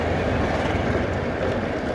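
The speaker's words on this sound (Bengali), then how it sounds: "উল্টো দিক থেকে কিন্তু ব্রিজের ট্রেন চলছে" A train crosses a bridge over the Kopai river near Santiniketan, a steady close rumble with a dense rolling roar that holds evenly for the whole stretch, with no talk over it.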